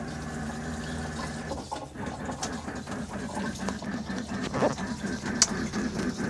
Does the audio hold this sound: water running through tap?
yes